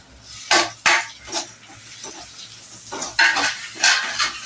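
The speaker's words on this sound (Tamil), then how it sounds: "உப்பு, மிளகாத்தூள், கருவேப்பிலை எல்லாம் மிக்ஸ் பண்றோம்." Dried anchovies being stirred together with salt, chili powder and curry leaves for an onion fry, giving a few sharp scrapes and clinks of a spoon against the pan over a faint sizzle, with no one talking.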